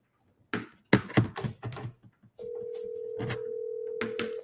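A phone rings in a room: after several short knocks and thuds, one steady electronic ringing tone sounds loud and close for about two seconds.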